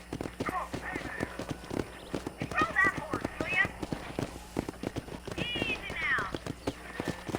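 A horse in the Western game Red Dead Redemption clip-clops at a steady rhythmic gait, its hoofbeats close and continuous, with whinny-like calls rising over them a few times.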